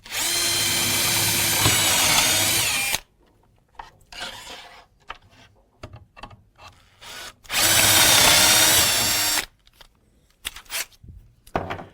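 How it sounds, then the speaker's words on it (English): A power drill with a 6 mm bit and depth stop bores into the back of a drawer panel: two loud, steady whirring bursts of about three seconds each, separated by quieter handling clicks and knocks. "position the template on the back and drill at a depth of 10 mm with a 6 mm drill bit"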